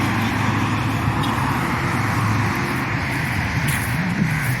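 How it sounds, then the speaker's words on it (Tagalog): A vehicle rolling in close by along a rural lane during an afternoon walk, a steady loud engine rumble and road noise holding throughout, with no speech over it. "Nakapasok yung sasakyan nila dito, oh."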